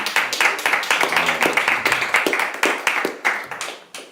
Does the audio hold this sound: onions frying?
no